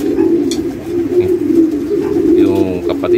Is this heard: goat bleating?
no